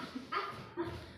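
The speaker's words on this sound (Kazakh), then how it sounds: "Күшік келеді." A puppy gives two short yips, a small bark followed a moment later by a second, set against a quiet background with a faint whimper-like tone.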